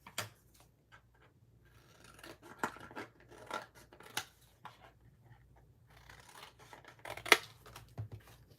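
Paper pieces being trimmed with scissors for a stamped greeting card, giving quiet scattered snips and rustles at close range with short pauses between cuts, plus one sharper click near the end.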